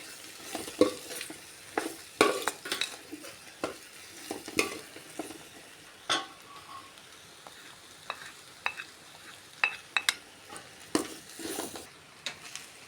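Beef masala fries in a pan while a spoon stirs it, giving irregular close scraping clatters over a soft sizzle.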